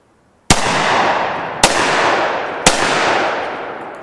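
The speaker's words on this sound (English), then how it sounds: "This gun is not nearly as flat shooting with the extremely aggressive compensator removed, but it's still really smooth." Three loud, sharp shots from a Ruger MPR 16 AR-style rifle with a 16-inch barrel and its compensator removed, fired outdoors about a second apart, each followed by a long rolling echo.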